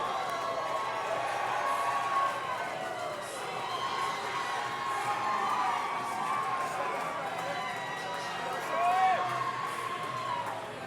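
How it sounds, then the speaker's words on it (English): A fight-night crowd cheers and roars for a debut MMA fighter entering an arena, a steady wash of shouting and whooping that swells slightly near the end, with a commentator's voice talking over the din. "The crowd's going wild for our debut fighter from Knoxville MMA Academy."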